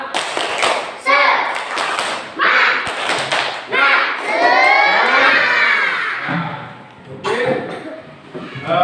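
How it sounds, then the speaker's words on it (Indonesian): A classroom of children does a rhythmic clapping chant, bursts of claps and thumps on desks alternating with loud group chanting and shouting, close and energetic. "Kita akan ice breaking dengan tepuk semangat."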